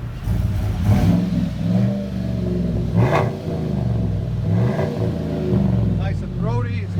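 A 2018 Chevy Silverado Z71 LT pickup with dual exhaust and Flowmaster Super 10 mufflers revs repeatedly, its deep, throaty exhaust rising and falling in close, loud surges while people talk over it.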